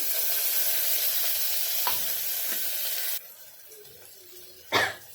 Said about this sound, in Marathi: तेल माझं तापलेलं होतं आता मी लगेच कांदा टाकून देते कांदा लाल होईपर्यंत भाजायचा आहे